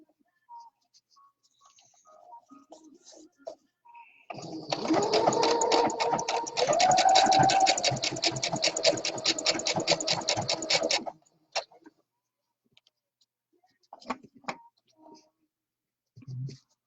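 A sewing machine runs a steady, fast stitching burst for about seven seconds while sewing a 3-thread stretch stitch on a fabric leg sleeve, with quiet handling clicks before and after.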